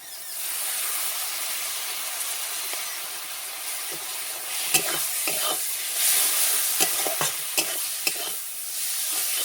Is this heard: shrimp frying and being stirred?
yes